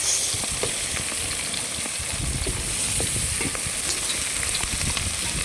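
Spices crackle and sizzle in hot oil in a pan of cauliflower curry, a dense, steady frying hiss up close with scattered pops and stirring scrapes, and no talking.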